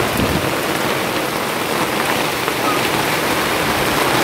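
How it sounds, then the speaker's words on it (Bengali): Heavy rain pours down during a storm as a dense, steady, close roar of drops striking surfaces, with no break across the whole stretch. "মেঘ করার সাথে সাথে জোরে বৃষ্টি এসছে"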